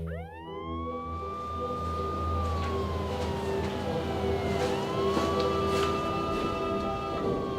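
Ambulance sirens wailing in Melbourne, a loud rising and falling tone that sweeps up and down steadily over a continuous traffic rumble.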